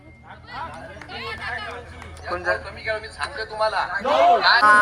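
Crowd cheering in celebration after a women's team wins a local cricket tournament match, a loud, dense mix of shouting voices and chatter that swells toward the end.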